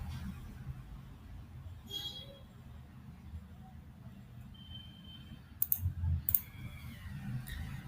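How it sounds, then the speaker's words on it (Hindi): A computer mouse clicks a few times in CorelDRAW 2021 while the Distort tool is used. The clicks are faint and sharp, coming in a short cluster near the end over a quiet background hum. "और यहाँ पे कहीं भी मैं क्लिक कर दूंगा।"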